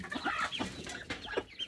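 Pet chickens clucking while being fed alongside ducks in a backyard, several birds close by producing irregular short clucks and murmurs, fairly soft with no talking.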